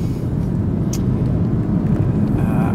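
A Porsche 911 Turbo PDK (997) with a double-clutch gearbox pulling away smoothly at night in Stockholm, a steady low engine rumble close by, with no talking.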